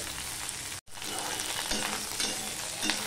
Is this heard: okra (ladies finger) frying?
yes